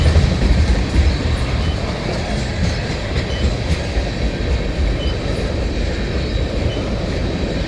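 Canadian Pacific freight train with two locomotives pulling a long string of tank cars rolls past at close range, a steady loud low rumble of wheels and cars with faint clickety-clack throughout, no voices.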